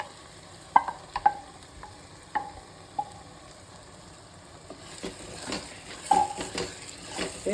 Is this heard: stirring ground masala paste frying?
yes